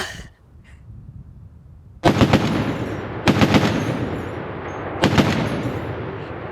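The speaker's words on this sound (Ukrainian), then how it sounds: "Ось так виглядає турецький кулемет Канік." A Turkish Canik M2 heavy machine gun fires three loud bursts outdoors, each a rapid string of heavy shots with ringing echo, after a quiet start.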